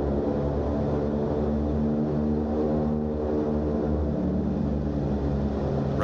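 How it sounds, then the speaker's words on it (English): Radial piston engines of a B-29 bomber roar steadily at high throttle during takeoff, a loud continuous droning propeller hum with pulsing harmonics and no voices. "Here you see more throttle applied to the left engines to combat the left turning tendencies"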